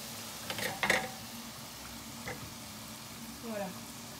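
Moroccan chebakia pastry frying in oil, giving a quiet, steady sizzle with a few brief sharp crackles and a voice near the end.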